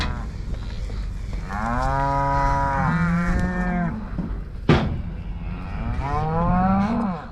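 Stabiliser cattle on a farm give two long, close, loud moos, the first rising and stretching out for several seconds and the second following after a brief pause.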